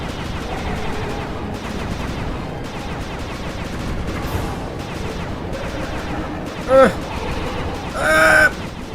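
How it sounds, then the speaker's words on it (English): Rapid video game gunfire, bursts of shots rattling under continuous excited talk, with a couple of sharper louder cracks near the end. "Nice shooting!"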